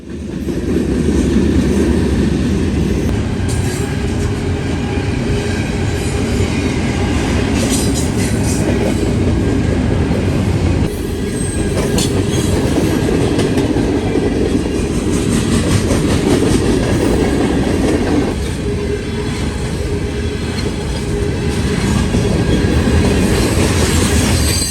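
A Norfolk Southern freight train passes close by on the Dayton District near Sharonville, a loud continuous rolling rumble of cars with rhythmic wheel clatter and intermittent squealing wheels, steady for the whole stretch without voices.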